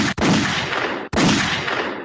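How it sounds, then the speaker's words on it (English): Gunshot sound effect: two loud, close blasts about a second apart, each a harsh broadband burst that rings out briefly before the next. "Some gunshot."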